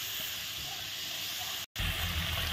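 Green chilli and ginger paste hits a hot pan with a loud, steady sizzle and hiss that drops out briefly, then returns stronger and fuller, close and continuous with no talk.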